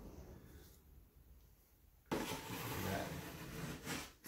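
Wax is scraped off a surfboard with faint rubbing strokes at first, then a louder, steady rasping scrape runs close up for the rest of the clip.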